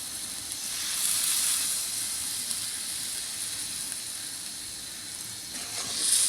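Rice starch water poured into a hot pan while cooking shidol with snakehead fish, giving a continuous soft hiss and sizzle that swells briefly at the start and end.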